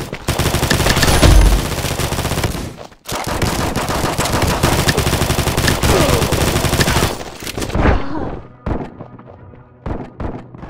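Rapid, loud automatic gunfire from the video game Combat Master rattles continuously for several seconds, pauses briefly, resumes, then thins into scattered single shots and thuds.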